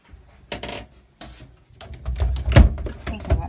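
A cabin door on a Malo 40 sailing yacht being closed, giving a few light wooden knocks and rattles followed by a firmer thud and latch clack near the end, heard close up in a small interior.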